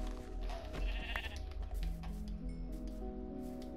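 Sheep bleating in Minecraft, a short blocky game bleat set over a steady bed of music and game ambience, fairly close and moderately loud.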